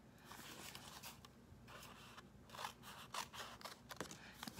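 Scissors trimming paper for a Halloween and harvest scrapbook page, a series of short, quiet snips and crisp paper rustles spaced irregularly and heard close up with no talking.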